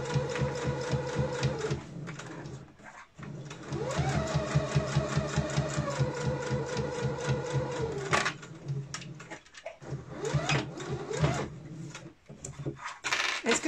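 A sewing machine topstitches fabric near a zipper on a pouch, its needle chattering in fast steady bursts that pause and restart several times, close and fairly loud.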